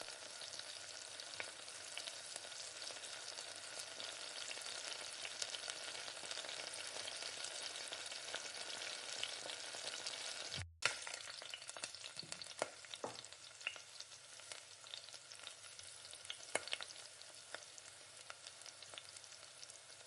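Chopped coconut and coriander leaves sauté in a pan for a chutney, giving a steady, fairly quiet sizzle. There is a brief dropout near the middle, then a few scraping stirs over the continuing frying hiss.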